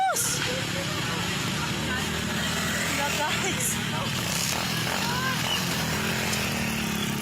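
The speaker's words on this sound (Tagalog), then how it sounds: "Igo lang yun, nakalusot din ang motor." A motorcycle engine revs and putters along a mountain road near a landslide, its buzzing drone steady and fairly close, with people talking over it.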